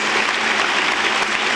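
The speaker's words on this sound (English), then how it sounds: "A big round of applause." An audience claps at a school annual day celebration, a loud, full round of applause sustained evenly throughout the short stretch, with no speech on top.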